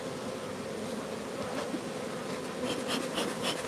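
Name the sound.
honeybees buzzing around hive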